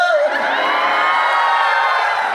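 Audience at a live stage show cheering loudly, a dense sustained crowd roar with whoops and shouts filling the whole moment, close and steady throughout.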